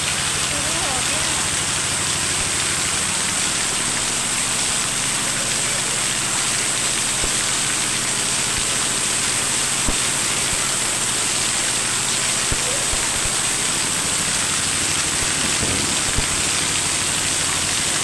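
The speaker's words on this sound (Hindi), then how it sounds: "बारिश हो रही है," Heavy rain pouring down as a dense, constant hiss and rush with a low rumble underneath, steady and loud with no let-up throughout.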